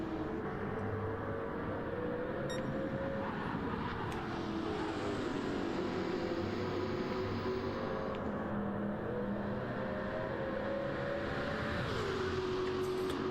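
A race car at the Le Mans Classic held in a steady high engine drone whose pitch climbs and then falls over many seconds, loud and continuous, with no talking.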